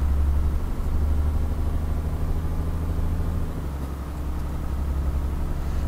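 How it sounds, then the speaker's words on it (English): Heavy truck engine in Euro Truck Simulator 2, hauling extra weight, drones in a steady, loud, low rumble held at high revs throughout, with no voices. "I am over-revving a little bit."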